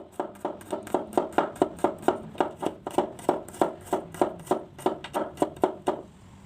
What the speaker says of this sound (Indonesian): ada 3 siung bawang putih sama diiris-iris juga